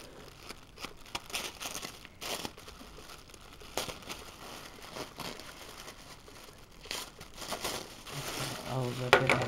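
A package of happy mail, handmade items from a crafter, is ripped open with crinkling, tearing paper and plastic in repeated close bursts, while someone talks over the noise.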